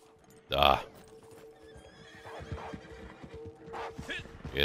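A horse in the video game Red Dead Redemption 2 Online lets out a loud neigh, followed by a patter of hooves and scuffling movement, with a second whinny rising near the end.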